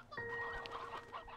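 Chickens clucking in Slime Rancher 2, a short, faint burst of soft clucks with no talk over it.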